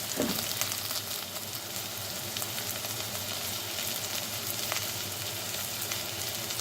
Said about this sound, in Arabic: حطينا الآلو والجزر يتقلى مع البصل